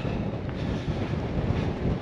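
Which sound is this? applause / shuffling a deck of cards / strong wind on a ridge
strong wind on a ridge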